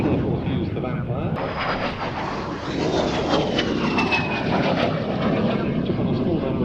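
A de Havilland Vampire FB-6 jet flies past at the Duxford Battle of Britain air show, giving a loud, steady roaring rush with a rising whine. A faint voice may run underneath.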